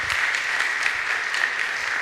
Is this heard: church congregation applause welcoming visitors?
yes